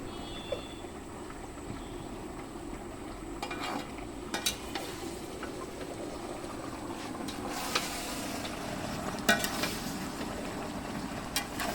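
Cashew paste goes into mutton frying in a pan, with a steady low sizzle and scattered clinks of a spoon stirring, close and moderately loud, no talking.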